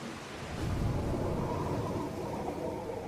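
Tropical thunderstorm with rain, a steady low rumble of distant thunder over a continuous hiss of rainfall, with no voices.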